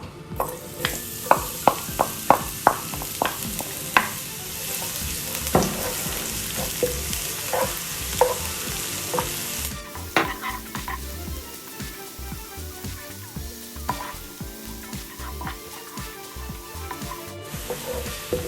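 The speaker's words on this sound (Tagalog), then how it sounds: "lutuin natin ang ating garlic hanggang maging light brown" Garlic fries in oil in a cooking pan, a steady close crackling sizzle broken by frequent sharp scrapes and taps of a utensil stirring against the pan.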